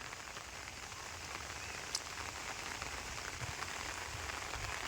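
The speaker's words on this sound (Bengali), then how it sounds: "আসলে বৃষ্টি সেই সুন্দর যদি এরকম নিরিবিলি টপ টপ টপ টপ করে পড়তে থাকে" Light rain patters evenly on open ground and an umbrella at an outdoor cooking spot, a soft, constant wash of drops with a faint brief tick near the middle.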